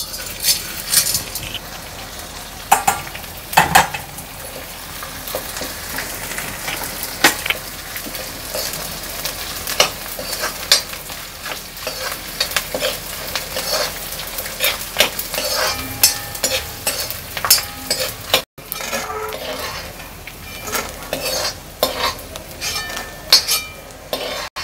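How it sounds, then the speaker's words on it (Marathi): Edible gum frying in ghee for fenugreek laddoos, a continuous crackling sizzle with frequent clicks and scrapes of a stirring spoon against the pan, close and busy throughout, no talking. "आता आपला डिंक भाजून झाला आहे चांगला तळून."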